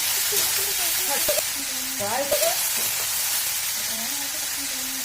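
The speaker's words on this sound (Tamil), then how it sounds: "இந்த எடுத்து வச்சுருக்க வேர்க்கடலே அதில் போட்டுக்கோங்க முந்திரி கொட்டை அதில் போட்டுக்கோங்க கொஞ்சம் வதக்கிக்கோங்க நல்லா தக்காளி வந்து ஒரு ஃபிஃப்டி பர்சன்டேஜ் வதங்கட்டும்" Tomatoes with peanuts and cashews sauté in a pan for paneer butter masala, a steady close sizzle and frying hiss with occasional stirring scrapes, a voice briefly audible.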